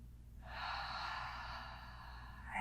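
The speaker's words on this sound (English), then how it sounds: "Big full breath." A long, full inhaled breath during a yoga flow, steady and close, swelling after a brief pause and holding airy through the rest of the moment with no talking.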